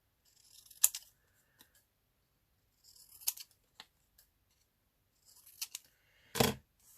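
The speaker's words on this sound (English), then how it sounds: "Then we've got our 27, which I'm just going to trim." Scissors snip through a trimmed paper piece for a collage, a few quick separate cuts spread out with quiet gaps between, the last cut longest and loudest, close and alone without talk.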